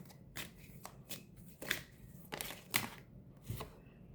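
A deck of tarot cards is shuffled and drawn in a series of soft, quick riffling bursts and flicks, close and quiet with no talking.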